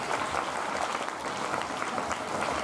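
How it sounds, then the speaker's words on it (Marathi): An audience at a school prize-giving ceremony claps loudly and continuously, a dense even applause lasting under three seconds with no talking. "जोरदार टाळ्या जाऊ एकदा"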